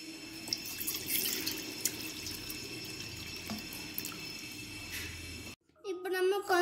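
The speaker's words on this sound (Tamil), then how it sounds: "பால் எடுத்து இதுல கொஞ்சம் ஊத்திக்கலாம்." Milk is poured into a bowl to make a chocolate milkshake, giving a steady soft liquid trickle at low volume. It cuts off near the end, and a voice follows briefly.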